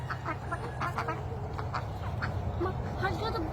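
Several domestic ducks quack repeatedly at a village pond in rural Bangladesh, with fairly close, irregular calls over a steady low hum and outdoor background noise.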